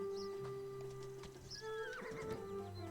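A horse in the video game Ostwind (Windstorm) gives a clear, fairly close whinny, with light hoof clatter and game sound effects around it.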